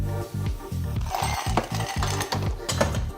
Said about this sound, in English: we're going to fill it full of cubed ice